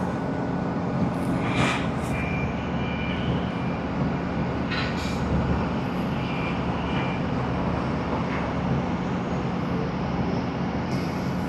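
An ANA Boeing 787 approaching Tokyo Haneda Airport gives a continuous, moderately loud broadband roar that holds steady throughout, with faint higher sounds flickering over it.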